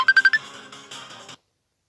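A mobile phone rings with an incoming call: a loud, close melodic ringtone plays a quick run of bright pulses and then a softer phrase before stopping abruptly. Nobody speaks.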